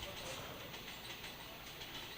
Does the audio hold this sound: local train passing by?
yes